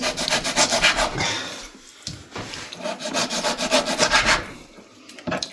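Pork ribs are cut in a home kitchen with repeated rhythmic rasping strokes that sound close and fairly loud, pausing briefly between bursts of cutting.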